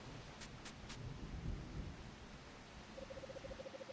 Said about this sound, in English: It's a good thing I made it back from work before the rain picked up. It's coming down pretty heavily now.